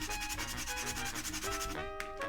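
Sanding a wooden craft piece by hand, a steady close scratchy rubbing with repeated back-and-forth strokes and no voices.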